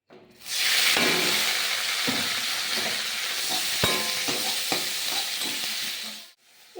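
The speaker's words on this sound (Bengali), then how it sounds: "ওই তেলের মধ্যে নিম পাতাটা দিয়ে" Neem leaves hit hot oil in a wok left over from frying eggplant, giving a loud, steady sizzle and hiss with a few soft stirring knocks, dying away at the end.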